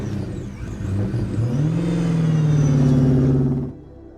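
A red car pulls away and accelerates, its engine rising in pitch over a steady broadband roar before dropping off sharply near the end; no voices.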